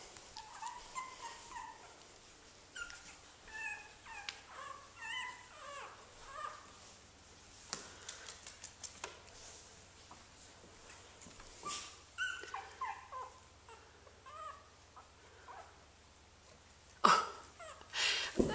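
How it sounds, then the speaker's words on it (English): Four Boston Terriers, one male and three females, play on a hardwood floor, giving soft whimpers, little yips and light scrabbling, all faint and scattered through the clip. "This is my Boston Terriers. There is one male and three females."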